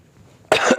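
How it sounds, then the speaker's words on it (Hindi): A man coughs close to the microphone during a physics lesson: two quick, harsh coughs in under half a second, following a quiet pause. "खांसी का बहुत हो रहा है मेरे"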